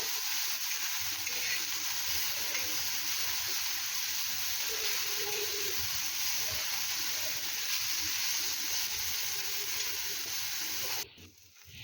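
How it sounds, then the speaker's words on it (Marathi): Onion and coriander stalks frying in a pan, a steady close hiss and sizzle running continuously before cutting off near the end. "आता हे सर्व आपण थोडेसे फ्राय करून घेऊया"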